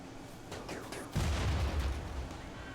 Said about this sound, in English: That was a big damn explosion.